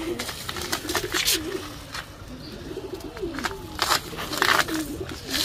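Pigeons coo repeatedly in soft, rolling phrases, close by, with scattered taps and rustles of birds moving about.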